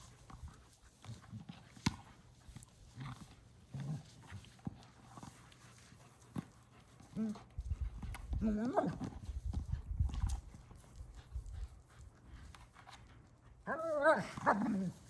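Two dogs play together outdoors near a creek, with scuffling and movement noises and bursts of playful growling, whining and yipping that swell in the middle and near the end, moderately close.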